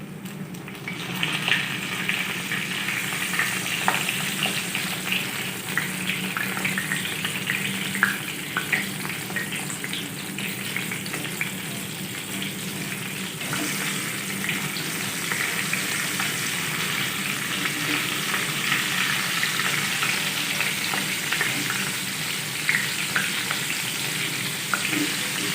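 Potato chapli kababs fry in a pan over a low flame, giving a steady close sizzle and crackle of oil throughout, with the occasional scrape of stirring or turning.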